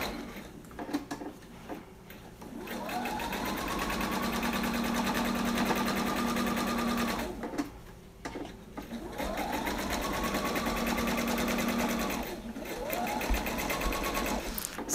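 A sewing machine stitches a Christmas pillow made with a Cricut Maker in steady whirring runs, three bursts separated by short pauses, close and fairly loud.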